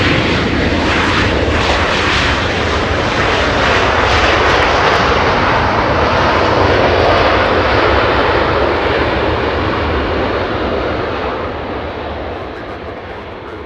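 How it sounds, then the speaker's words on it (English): A Southwest Airlines plane on flight 1321 from Dallas comes in to land at Los Angeles International Airport, with a loud, sustained engine roar and rushing jet noise that holds steady and then slowly fades. "Little Southwest Airlines coming into land."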